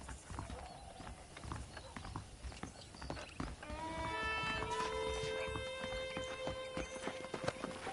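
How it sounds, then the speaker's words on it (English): Saddled horses clip-clopping in a Western video game, steady hoof beats with a whinny and rising musical tones layered in, continuous and fairly loud without talk. "The horses are saddled up over here."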